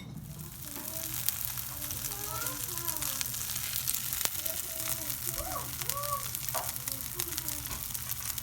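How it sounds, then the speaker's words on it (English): Steady sizzling of zucchini fritter batter frying in a hot oiled pan, with faint voices talking in the background. "I'm going to start just frying this up in my oiled pan."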